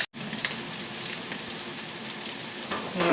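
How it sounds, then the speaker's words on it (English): Onions sweating in a pot on a gas stove, giving a steady close sizzle with a crackly hiss that runs without a break and has no voices over it. "the onions are sweated, they're sort of, you know, just starting to go brown there"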